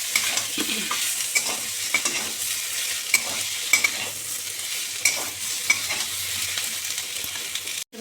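Green chilies, tomato, Kashmiri chili powder and turmeric fry in a pan, a continuous close sizzle broken by regular scraping and stirring knocks, with no one talking.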